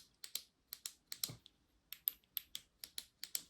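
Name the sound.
clicking forward tail-cap switches of Nextorch penlights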